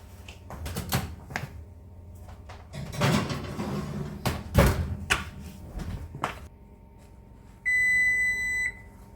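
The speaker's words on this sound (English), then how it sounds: "the timer went off" A kitchen timer beeps in a steady electronic tone near the end, after a stretch of clattering and knocking from oven and kitchen handling, with no talk.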